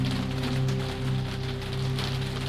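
Steady rain falls on a night city among glowing apartment windows, a dense even hiss with a low constant hum beneath it, continuous and unbroken throughout.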